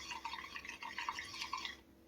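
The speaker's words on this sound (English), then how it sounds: "Pour this, and while I'm pouring it, just let it." Fluid glugs and drips from a new farm jug as it is poured into a tractor tire, close and continuous with small bubbling burps, fading out near the end.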